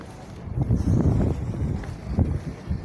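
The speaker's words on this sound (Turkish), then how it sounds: "Hafif bir rüzgar var." Low, rumbling wind buffets the microphone in uneven gusts on Tarlabaşı Boulevard in Istanbul, a continuous blustery noise with no clear voices over it.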